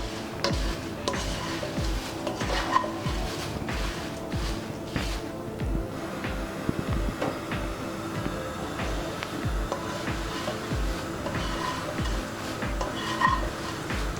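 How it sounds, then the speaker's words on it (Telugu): Flattened rice (poha) frying and being stirred in a kadai over a medium flame, with steady scraping and rustling plus occasional clinks of a spatula against the pan, loud and close, no talking. "ముందుగా కడాయి పెట్టుకుని మనం ఈ అటుకులు ఫ్రై చేసుకుందాం."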